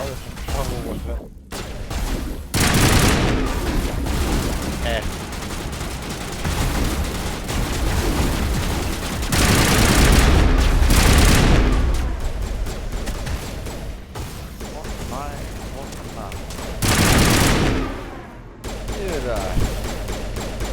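Heavy bursts of gunfire and booming weapon blasts from Mass Effect Legendary Edition, loud and sustained in several waves, with a voice talking over the combat.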